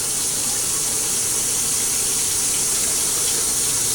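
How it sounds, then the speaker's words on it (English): Hot sink water runs steadily over a hot Lodge 12-inch cast iron frying pan, a continuous close hissing spray and gush with a steamy sizzle and no talk. "we are going to wash my pan out real quick"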